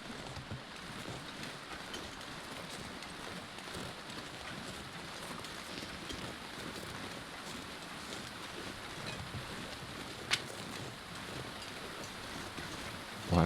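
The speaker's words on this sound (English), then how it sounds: "I do hear a waterfall." A waterfall in the snowy wilderness of The Long Dark rushes as a steady, faint broadband roar, continuous and unchanging with no voices.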